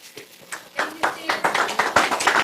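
An audience at an astronomy talk on deep space astrophotography starts clapping, scattered claps at first that build into fuller, denser applause, with some voices mixed in.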